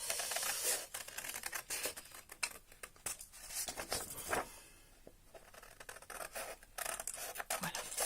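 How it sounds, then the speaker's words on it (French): Scissors snipping through paper while cutting out geometric shapes for a pig's-head craft, a run of close, crisp, irregular cuts and rustles with brief pauses. "on ne ferme pas les ciseaux"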